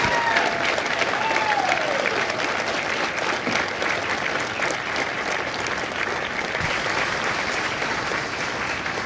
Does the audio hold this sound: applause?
yes